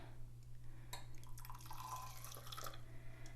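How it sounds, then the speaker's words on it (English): Water phase poured into the oil phase of a homemade winter face cream, a soft trickling pour with light drips and splashes over a steady low hum, no talking. "now I'm going to pour the water part into our oil part"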